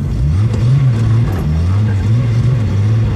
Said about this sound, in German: da kommt ein Auto